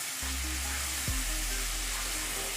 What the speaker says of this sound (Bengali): এবারে সমস্ত মশলা আমি ভালো করে মাংসের সাথে একসাথে কষিয়ে নিচ্ছি।